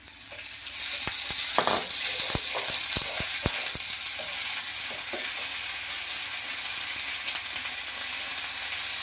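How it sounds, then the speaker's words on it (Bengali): Ginger and garlic paste sizzles steadily in hot oil with onions in a pan, a dense continuous frying hiss punctuated by sharp crackles and spoon clicks while being stirred. "আদা রসুনটাকেও ভালোভাবে ভেজে নেব।"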